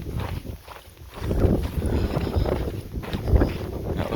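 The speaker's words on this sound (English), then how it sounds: "I think he's going to be pleased with the amount of wind currently." Strong wind gusts buffet the microphone on the Pacific Crest Trail, a rough, rumbling roar that rises and falls steadily throughout, with no talk.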